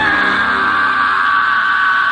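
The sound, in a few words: man screaming, horror story sound effect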